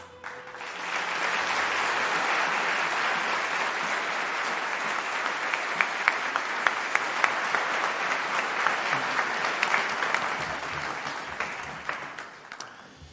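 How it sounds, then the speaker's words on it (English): An audience applauds graduates at a Faculty of Science convocation: sustained, dense clapping swells in quickly, holds steady for about ten seconds, then tapers off. "One more round of applause for all of our graduates today."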